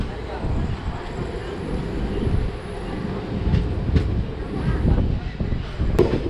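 A Yercaud Express train rumbles steadily along the tracks near Katpadi with a low, continuous roar and occasional rattling clacks, close and fairly loud throughout.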